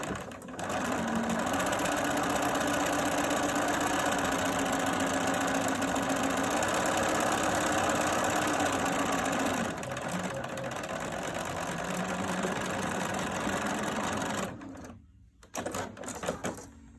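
A sewing machine back-stitches a quarter-inch seam on a solid white face mask liner, running in a steady loud whir for about fourteen seconds before stopping, then giving a few short bursts.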